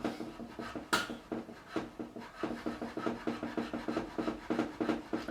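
A fret file rasps across the frets of a reliced Telecaster guitar in quick repeated strokes, a steady rhythmic scraping with one sharper stroke near the start, close and fairly quiet.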